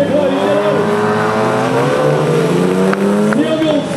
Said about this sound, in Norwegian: nå kommer toget, et lite kuplet tog med Volvo-motor